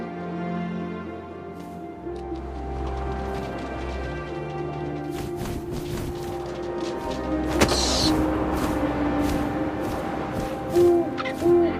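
An owl hoots in the video game What Remains of Edith Finch. Several hoots sound over a steady layered game ambience and score, with brief sharper accents near the end and no talk.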